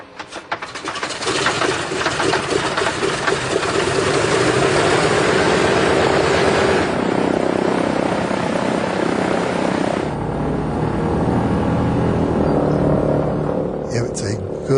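Droning engines and propellers of a C-47 transport plane, a wartime workhorse used to haul cargo to drop zones, form a loud, continuous roar that holds steady throughout and eases slightly toward the end.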